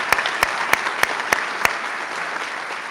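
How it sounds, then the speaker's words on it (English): Audience applause at a medical school white coat ceremony honoring family and friends, steady crowd clapping throughout with several sharp, loud individual claps standing out near the front. "Folks, help me applaud the family and friends who are here today."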